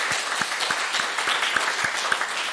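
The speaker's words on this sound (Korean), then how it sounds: "우리 크게 박수해 주시기 바랍니다" Warm applause rises from a congregation during a Sunday church service, dense overlapping clapping with a few louder individual claps rhythmically standing out, steady throughout and without speech.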